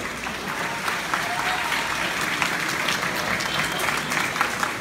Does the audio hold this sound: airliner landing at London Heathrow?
no